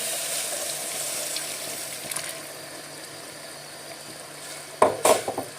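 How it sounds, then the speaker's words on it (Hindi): Boiled water poured into simmering chana dal kofta masala in a pan, a soft continuous splash and sizzle at close range, ending in a few sharper bursts of spluttering, with no voices. "कोफ्तों में अब थोड़ा सा बॉईल किया हुआ अलग से पानी शामिल करेंगे"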